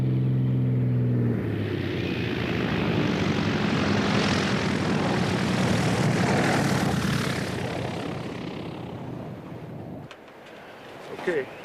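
Propeller engine of a bush plane droning loudly and steadily as it comes in to land on a remote African airstrip, the roar swelling, then easing and cutting off near the end; a voice speaks briefly under it.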